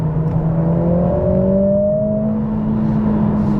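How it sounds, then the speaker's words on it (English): A Mercedes CLA45 AMG accelerates with its exhaust button switched off, the engine note climbing steadily in a smooth, rising drone, close and continuous. "So that's a little bit of acceleration there with the exhaust button off."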